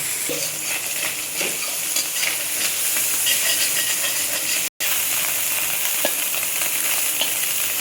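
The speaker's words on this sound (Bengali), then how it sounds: "মাছটা এবার ভেজে নিচ্ছি" Mola carplet fish fry in hot oil with a loud, dense, hissing sizzle that keeps going, broken by a few light scrapes of a utensil and one momentary dropout. No talking.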